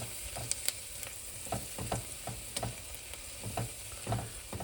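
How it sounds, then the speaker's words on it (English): Meat stirred and browned in a frying pan, with a steady sizzle under repeated scraping, clicking strokes of a utensil, fairly quiet and close. "we'll just stir them and wait for them to get nice and brown"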